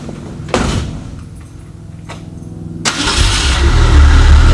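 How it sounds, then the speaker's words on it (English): A 1963 Ford Falcon engine cranks briefly and catches, settling straight into a loud, steady idle close by, after a couple of faint clicks beforehand. "let me turn it back on again to show you guys how easy it starts up"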